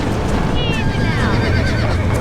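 Spooked horses neigh and whinny during a stampede in the Western video game Red Dead Redemption, with rising, wavering calls over a dense rumble of hooves and action, mixed under a voice talking urgently.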